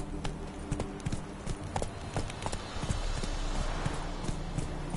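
Roach the horse galloping in the video game The Witcher 3: rapid rhythmic hoofbeats thud close and loud and continuous over a steady wash of noise.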